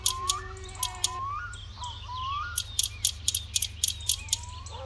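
A 10 mm spanner ratchets a bolt tight in the car-building game My Summer Car, giving quick bursts of sharp clicking in uneven runs, with bird chirps behind.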